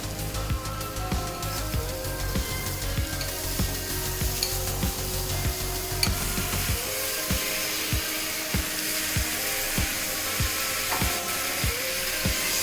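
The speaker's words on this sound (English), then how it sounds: "Mix it a bit." A spoon scrapes and stirs rice into sizzling spices for prawn pulao in a pan, with a steady frying hiss and regular rhythmic scraping strokes that grow distinct in the second half, close and alone.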